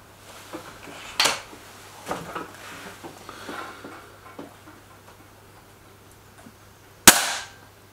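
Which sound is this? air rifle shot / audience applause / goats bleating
air rifle shot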